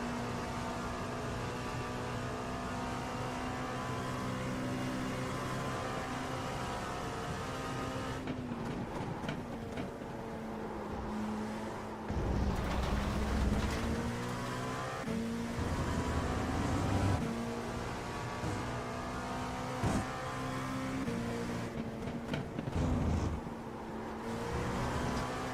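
An LMP2 prototype race car's engine in an IMSA racing game at Road America drones steadily and loudly on its own, its pitch climbing and dropping through repeated gear shifts and throttle lifts.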